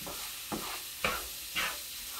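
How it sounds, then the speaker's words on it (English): Meat browning in a skillet with garlic for a breakfast casserole, a steady sizzle running throughout with three distinct scraping stirs spaced about half a second apart. "So we're just trying to get all the meat kind of brown."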